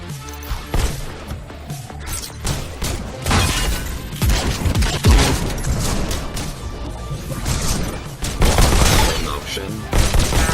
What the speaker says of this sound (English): Reach over your shoulders and grab your new shotguns.